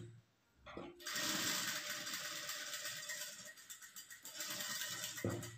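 A sewing machine stitches canvas into the back neck of a blouse. After a brief start it keeps up a steady close whir for several seconds and ends with a click.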